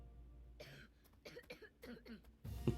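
Several rough coughs and throat-clearing sounds come close together, close and fairly loud, with a burst of noise at the end.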